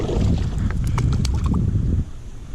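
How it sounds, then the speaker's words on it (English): Strong wind buffets the microphone out on the water during a fishing trip, a loud, steady low roar with faint splashes and knocks, easing slightly near the end. "Man, this wind is ridiculous"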